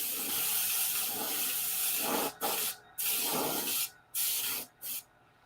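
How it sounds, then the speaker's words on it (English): A spray nozzle hisses liquid in a long steady burst close by, then breaks into several shorter sputtering sprays separated by brief pauses. "and now they both spray"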